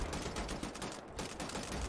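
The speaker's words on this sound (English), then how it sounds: "Okay, assault rifle." Rapid automatic assault rifle fire from the shooter game Wolfenstein: The New Order, a dense, continuous burst of loud, close shots rattling without pause.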